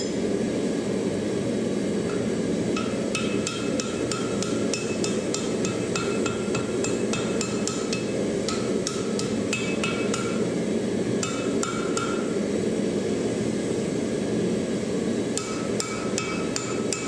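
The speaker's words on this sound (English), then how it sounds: "the billet is cleaned up from scale and straightened out on the anvil." Sharp metallic hammer blows ring out as a steel billet is straightened on an anvil, irregular clusters of strikes over a steady roaring background hum, close and clear.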